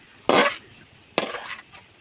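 Fried potatoes lifted out of hot oil for homemade biryani, two short sizzling splashes about a second apart, close and fairly loud over a faint bubbling background.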